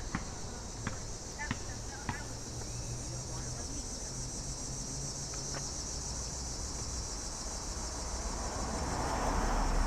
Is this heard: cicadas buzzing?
yes